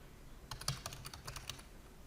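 Keys clatter on a computer keyboard as a username and password are entered, a quick run of close, crisp taps coming in bursts over about a second and a half with no talking.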